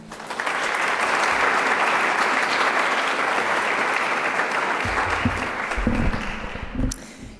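An audience at a School of Health Sciences White Coat Ceremony breaks into loud, sustained applause welcoming the dean, steady for several seconds before tapering as a voice begins speaking near the end.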